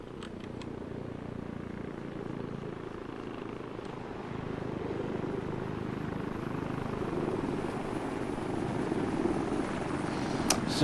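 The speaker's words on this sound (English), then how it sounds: "that sounds like a couple of helicopters coming in" A steady low rotor drone of helicopters in the video game ARMA 3 builds gradually, growing slightly louder as they draw nearer, with no voices over it.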